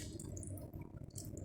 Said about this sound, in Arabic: هنغسلها غسيل كويس قوي تحت الميه الجاريه